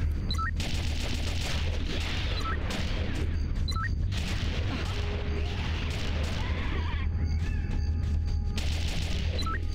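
Gunfire and impacts in the video game Jet Force Gemini, with dense, steady shooting and crashing blasts over a constant droning game backdrop with sparse voices.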